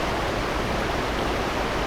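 A waterfall below the Himalayas flowing in a loud, steady, unbroken roar of rushing water, close and constant with no talk.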